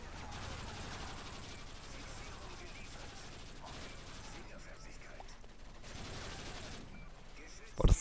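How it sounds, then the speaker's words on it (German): Pistols fire in a video game as a quiet, rapid clatter of mechanical shots. The crackle runs steadily through the scene and ends in a short louder burst. "Die schießen mit ihren billigen Pistolen schon drauf."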